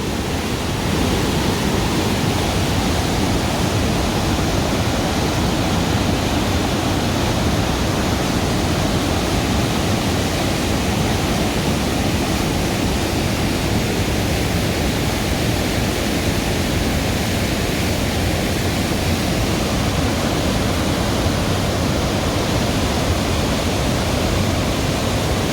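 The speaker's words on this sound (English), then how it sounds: "This is a small Niagara Falls of BC, it seems. Dawson Falls, Wellsgrey Provincial Park." Dawson Falls in Wells Gray Provincial Park, British Columbia, a broad, loud and unbroken roar of falling water that stays steady from start to finish, with no voices.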